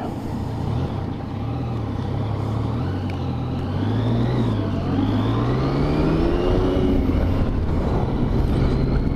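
Road traffic heard from a touring bike, with a steady engine and road rumble and a rising, sweeping engine tone from passing vehicles, continuous and fairly loud throughout.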